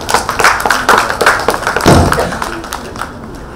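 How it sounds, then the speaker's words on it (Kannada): Audience applause at a Karnataka award event following a speech, a dense patter of many hands clapping at steady loudness with a few heavier thumps, filling the room for several seconds. "ಜೋರಾದ ಚಪ್ಪಾಳೆ ಬರ್ಬೇಕು."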